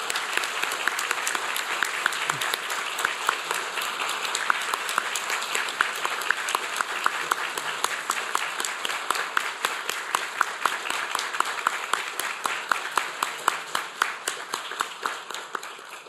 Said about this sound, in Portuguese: Peço uma salva de palmas a essa grande mulher.